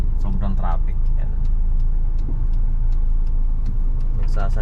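Heavy, congested road traffic rumbles steadily around a 1996 Toyota Corolla Big Body GLI just past a tollgate, with constant engine drone, passing vehicles and brief horn-like tones, while a person talks over it.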